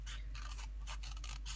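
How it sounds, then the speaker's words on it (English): Small scissors snipping through a paper teacup pattern, giving a series of quiet, close crisp cuts in an irregular rhythm with short pauses between strokes. "I'm just going to use smaller scissors here because I find it easier when you're cutting something a bit fiddlier"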